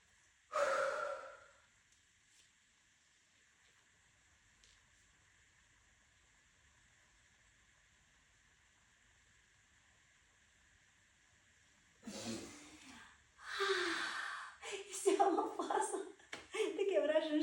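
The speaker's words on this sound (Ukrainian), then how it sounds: "Друга фаза. Дуже складно е, робити і говорити. Видих. Вдох." Deep breathing exercise: a single forceful exhale near the start, a long near-silent hold, then a run of close, audible inhales and exhales mixed with talking toward the end.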